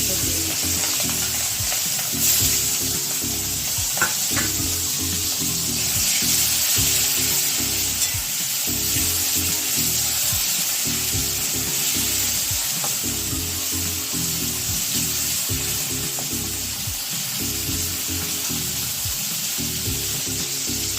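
Prawns frying in hot oil for a banana flower and prawn dish, a continuous loud sizzle with rhythmic stirring scrapes and bubbling throughout, close up and without speech.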